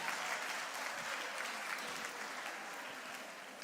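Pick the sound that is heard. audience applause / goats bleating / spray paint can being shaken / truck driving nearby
audience applause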